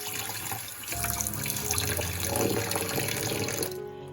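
An octopus's ink bag is turned inside out and washed under a running kitchen tap, a close, steady gush of water with shifting splashes as it is rinsed, stopping suddenly at the end.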